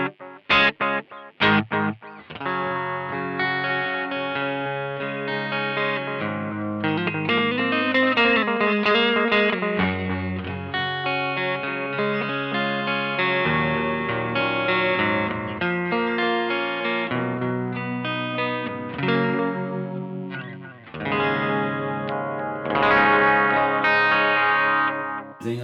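Electric guitar through a Caline Lorcan portable amp used as a distortion and delay pedal, sustained distorted chords and melodic lines with echo trailing, loud and continuous after a few opening stabs.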